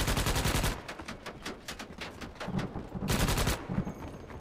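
Suppression gunfire from a video game, rapid continuous bursts of automatic shots, loud and close, with a brief lull before another dense volley.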